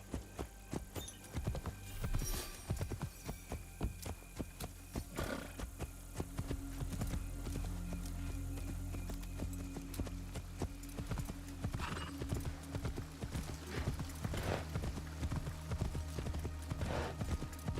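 Horse hooves gallop in Assassin's Creed Shadows, a steady fast clip-clop rhythm running loud and close throughout with an occasional neigh, over a low rumbling game soundtrack.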